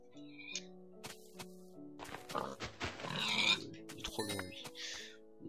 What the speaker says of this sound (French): Cochon, tu es à moi.